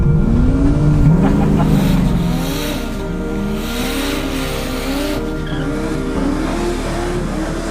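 Car tyres spin and squeal in a burnout, a loud wavering screech over a roaring engine that holds steady, then eases slightly and keeps going.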